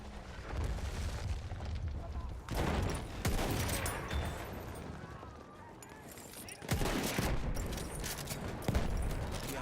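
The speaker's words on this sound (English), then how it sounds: "There, enemy machine gun." Enemy machine gun fire in the Battlefield 1 video game comes as repeated bursts and booming blasts, rising and falling in loudness over a constant battle din, with in-game voices calling out between shots.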